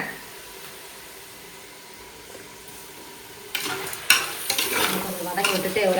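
Food sautéing in a pan for a Sunday vegetarian meal: a low, quiet hiss for the first half, then stirring starts and a loud, close sizzle with scraping swells up and continues to the end.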